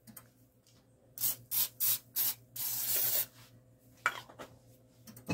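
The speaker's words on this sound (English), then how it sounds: "I'm actually going to spray this foil too" Several short bursts of cooking spray hiss onto doubled aluminum foil, followed by a longer sustained spray, then a few soft rustles and taps of handling the foil close by, with no talk.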